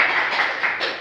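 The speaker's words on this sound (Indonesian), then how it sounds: "Kita berikan tepuk tangan untuk kita." A small group of students clapping in a classroom: a brief, even patter of applause, moderately close, with no talking over it.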